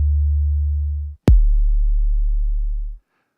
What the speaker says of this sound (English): So we get this bass sound that's really extended out.